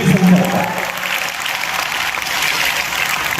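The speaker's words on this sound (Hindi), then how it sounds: "जोरदार ताली से स्वागत करेंगे" Seminar audience at a UPSC strategy event in Patna breaks into loud, steady applause welcoming a speaker, filling the hall continuously throughout.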